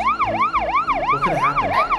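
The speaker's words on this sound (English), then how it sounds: "what's that sound? I think it's the ambulance." A loud ambulance siren wails close by, its pitch sweeping up and down in a fast, regular cycle for the full two seconds, with no voices over it.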